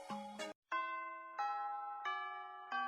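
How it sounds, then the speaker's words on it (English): A school bell rings in the video game Hatoful Boyfriend: a short chime opening, a brief pause, then four clear, evenly spaced tones ringing out alone. "Ah, that's the bell."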